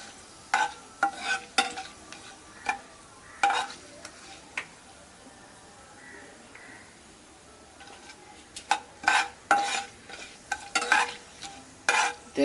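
Mutton curry masala being stirred and fried in a pan, with repeated scraping strokes of a spoon in irregular bursts over a low, constant sizzle, loud and close.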